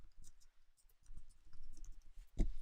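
Mouse clicks while saving a recent-comments widget in a WordPress dashboard: a few light, soft clicks, with one sharper click near the end, close and quiet, no talking.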